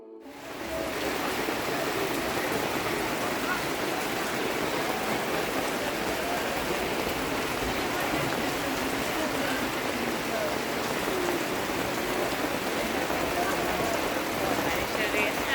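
Steady heavy rain hisses continuously in Khajjiar, a dense even patter filling the whole stretch without letup.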